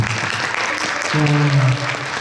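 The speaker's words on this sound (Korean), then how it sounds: "큰 박수 부탁드리겠습니다." Applause from a small theatre talk-concert audience, steady clapping with a brief tonal sound partway through.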